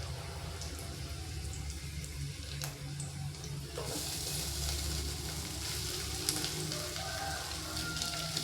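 Crushed garlic goes into hot oil for roasted garlic rasam and sizzles softly and steadily. The frying hiss grows brighter and louder partway through, with no talk.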